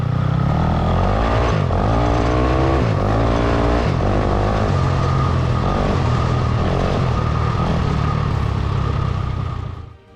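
A BSE Bosuer M450 dirt bike, about 120 kg with roughly 45 bhp, roars loudly and continuously as it is ridden, with the engine rising and falling through revs and gear changes close by.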